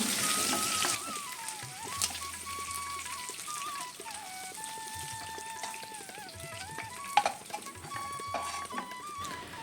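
Steady crackling sizzle of fried onions browning in hot oil, close up, with a few louder pops and a faint tone running through.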